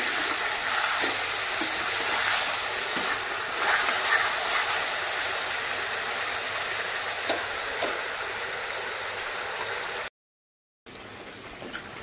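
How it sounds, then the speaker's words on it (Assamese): Chicken and onions sizzle and crackle steadily in a hot pan, a constant frying hiss with occasional sharper pops and a brief dropout near the end. "এইটো মুৰ্গীটো পিঁয়াজত ভাজি ল'লোঁ"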